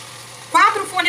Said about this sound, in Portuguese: Alho e cebola bem refogados.